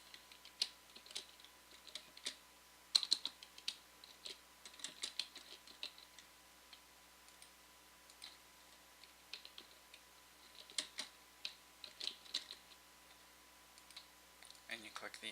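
Names are typed on a computer keyboard in quick bursts of soft, close key clicks with short pauses between them, under a faint steady background hum.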